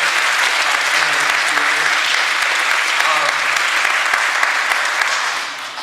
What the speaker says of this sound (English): Let's have a round of applause for Mr. Marquis.